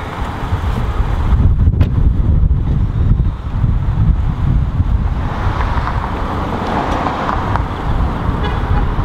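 A Jaguar driven across a lot to be parked, with steady engine and road rumble heavily buffeted by wind noise over the mic, continuous and loud throughout without any talking.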